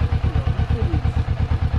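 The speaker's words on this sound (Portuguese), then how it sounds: "Batidinha do motor gostosa também." A Kawasaki Vulcan 650 S motorcycle engine idles close by with a steady, rapid thumping beat, loud and even throughout.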